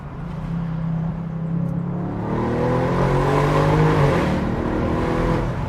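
A previous-generation Bentley Continental V8S accelerates hard, its engine revving with a steady, rising drone that swells and holds loud throughout, with no talk over it.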